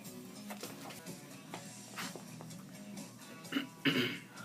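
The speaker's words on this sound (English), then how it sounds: "is clearing her throat right at the beginning" A woman clears her throat several times in short rough bursts, the loudest near the end, close to the microphone.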